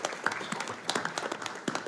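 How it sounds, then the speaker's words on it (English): Applause for student leaders at a school board meeting, a short burst of scattered hand claps from a modest audience in a meeting room, moderately loud and fairly close. "Another nice round of applause for all of our student leaders."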